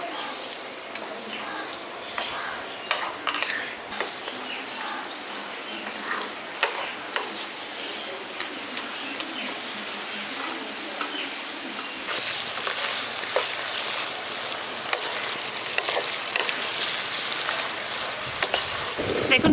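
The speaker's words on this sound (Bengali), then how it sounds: "মাথাটা আর বড়িটা দিয়ে ভালো করে মিশিয়ে দিয়েছি।" Fried hilsa fish head and lentil dumplings are stirred in a hot pan, giving a soft continuous sizzle with scattered scraping ticks that grows louder and denser toward the end.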